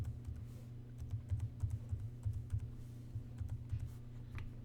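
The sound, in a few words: typing a password on a computer keyboard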